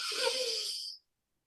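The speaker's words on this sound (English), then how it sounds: "So ti hei, breathing in." A slow, deep in-breath during a guided Māori breathing exercise: a steady, airy intake heard close up for about a second, then silence.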